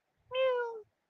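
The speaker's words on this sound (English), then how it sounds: "It's a little kitty." A small kitty gives a single clear, drawn-out meow close by, about half a second long, in otherwise quiet surroundings.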